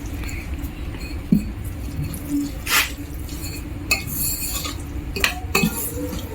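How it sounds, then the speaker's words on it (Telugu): Eggless sponge cake batter is stirred in a bowl, giving scattered clinks and scrapes of a utensil against the bowl over a steady low hum, with a few sharper knocks along the way. "ఉండలు కట్టదు లేకుండా మంచిగా మిక్స్ చేసుకోవాలి"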